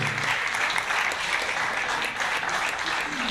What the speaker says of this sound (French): Sur vos applaudissements, mesdames, messieurs.